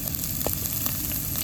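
Shallots, dried red chillies and curry leaves crackle and sizzle steadily in hot oil in a pan, a dense continuous frying hiss with small pops, close and fairly loud, no voices.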